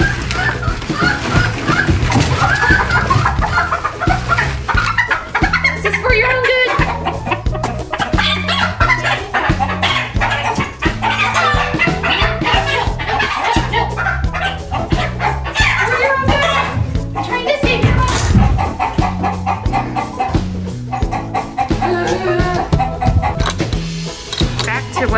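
A hen clucks beside her clutch of eggs on a homestead, repeated close, busy clucking running throughout while a person talks over it.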